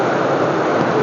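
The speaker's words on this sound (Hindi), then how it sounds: "बाहर हो रही है, बहुत जोर बारिश हो रही है।" Heavy rain pouring outside a room, a loud, dense and steady hiss with no gaps and no one speaking.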